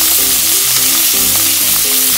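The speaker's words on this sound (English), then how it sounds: "cabbage and you're now going to slightly saute until it's slightly almondy brown color" Shredded cabbage sautéing in a hot pan, a loud dense sizzle that fills the whole moment, close up with faint stirring clicks and no voices.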